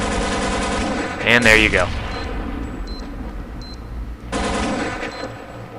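Automatic AK rifle fire in Counter-Strike: Condition Zero: a quick burst of gunshots rises over game ambience, followed by scattered clicks, a second burst later, and someone talking briefly.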